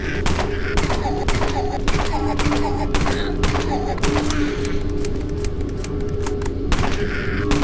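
Rapid gunfire rips through a zombie fight in the free online shooter Dead Frontier, with dense repeated shots close and loud, tightly spaced bursts giving way to a looser volley toward the end.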